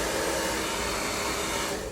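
A pet hair dryer blows steadily while a dog's coat is groomed, a loud, constant broadband whoosh with no pauses and no talking.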